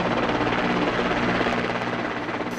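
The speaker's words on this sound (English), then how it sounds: "75 aircraft and helicopters, including Rafales, Sukhoi 30 MKI and MiG-29s will be flying over the Rajpath." Military helicopters fly over Rajpath in a Republic Day flypast, a loud, steady rotor drone and engine roar that fills the whole short stretch with no voices.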